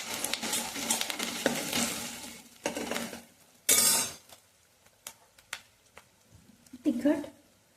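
Turmeric, cumin and coriander powder stirred into a spiced idli mixture with a spoon, giving irregular scraping and clinking strokes against the pan, close and fairly loud, with pauses and a brief sizzle between strokes.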